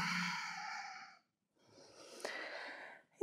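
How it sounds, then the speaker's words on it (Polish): A relaxed breath during a yoga session: a long, close airy exhale that trails off, a short pause, then a soft breathy inhale, with no talking. "I zrób wdech i luźno wydech"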